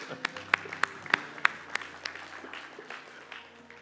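A church congregation applauding during a sermon gives a sparse, irregular run of sharp claps that thins and fades out, with a voice speaking underneath.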